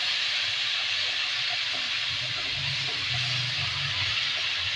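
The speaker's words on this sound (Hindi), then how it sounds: "अब हम इसके अंदर अदरक लहसुन का पेस्ट डाल देते हैं, हरी मिर्च साथ इसको अच्छी तरह इसको भी फ्राई कर लेते हैं" Ginger garlic paste and green chilli frying in a pan for chappan kaddu masala, a steady close sizzling hiss that runs unbroken throughout.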